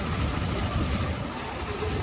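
A Maharashtra state transport bus engine rumbles steadily and loudly, a dense continuous drone with no pauses.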